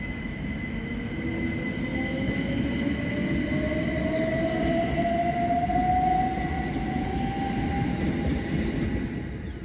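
A Southern passenger train, unit 377468, departs Havant station, rolling steadily past at close range, its low rumble constant while a rising whine builds and faint wheel squeal rings above it.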